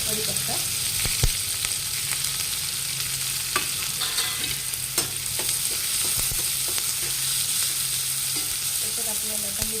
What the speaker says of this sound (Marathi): कांदे आता आपण छान फ्राय होऊ दे